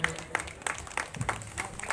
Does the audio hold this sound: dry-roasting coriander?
no